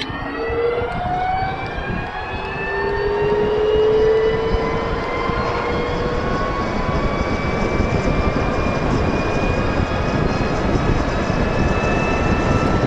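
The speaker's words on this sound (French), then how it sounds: "On a le bruit du moteur électrique, mais c'est tout." A rising electric motor whine, steady tonal pitch climbing over continuous road and wind rumble, loud and close throughout.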